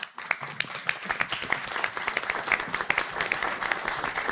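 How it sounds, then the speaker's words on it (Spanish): An audience at an event launching a national research network gives sustained applause, a dense wash of many hands clapping that stays steady for several seconds with scattered louder claps. "les pido un aplauso para ellas"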